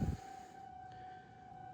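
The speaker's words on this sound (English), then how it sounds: "I heard the tornado siren." Tornado siren wailing as a steady, faint, distant tone that runs under low background noise, opening with a brief bump of nearby noise.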